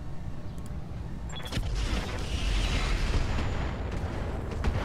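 Missile explosions strike a mech in the battle game Roguetech: a rumbling, continuous barrage of booms and bursts that swells after the first second and stays dense and loud to the end, with no voices.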